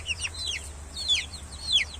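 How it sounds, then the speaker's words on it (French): A mother hen calls her chicks in a poultry cage, with repeated high, quick chirps rising above a steady low background hum; the calls come in short clusters with no voices. "Voilà la mère poule derrière qui appelle ses poussins."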